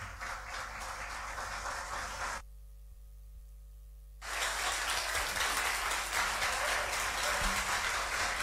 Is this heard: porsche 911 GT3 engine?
no